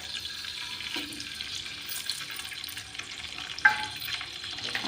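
Quiet sizzling of mustard seeds and cumin in hot oil crackles steadily, with a sharper pop or clink near the end and no talking.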